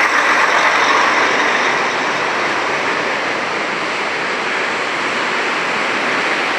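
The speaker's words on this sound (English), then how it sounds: "You can see a very large truck crossing the bridge." A very large truck crosses the single-lane Victoria Falls bridge above the gorge, a loud continuous broadband roar that holds steady for several seconds and eases slightly after the first moment, with no voices.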